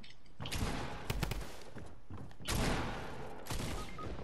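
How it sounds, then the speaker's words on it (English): Bursts of automatic gunfire in a video game, a few rapid volleys with thuds and mechanical clatter, loud and close with brief pauses between. "He has a. Machine gun."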